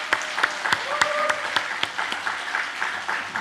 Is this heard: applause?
yes